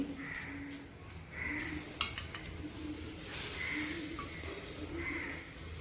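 Ghee and oil mix sizzling on an uttapam on an iron tawa, a steady close hiss with faint clinks and scraping of utensils, no talking.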